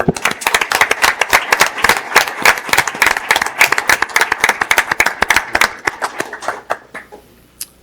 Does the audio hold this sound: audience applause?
yes